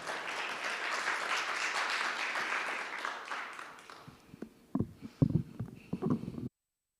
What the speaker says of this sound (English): So please, clap your hands, make him feel welcome